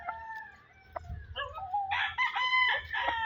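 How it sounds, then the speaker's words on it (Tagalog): Chickens cluck and a rooster crows on a farm, a few scattered cackles and clucks building into a fuller crow near the end, heard fairly close with no talking. "nakuha kong manok ni Boss Billy"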